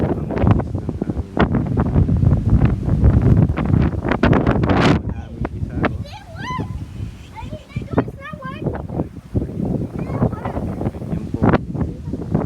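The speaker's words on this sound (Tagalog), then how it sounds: "Siguro 35 miles an hour ang bilis ng hangin." Strong wind blowing at roughly 35 miles an hour, roaring and buffeting the microphone almost constantly, with a brief lull in the middle, while a person talks over it.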